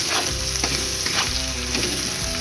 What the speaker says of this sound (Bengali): আর দিলাম হলুদ গুঁড়ো। এবার আমি ভালো করে নাড়িয়ে নেব।